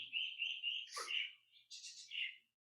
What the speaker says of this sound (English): There's the Quetzal.